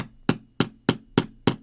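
A hammer strikes a rivet setter to fix a rivet post and cap into sewing hardware, five sharp metallic blows at an even pace, close and loud with short ringing tails.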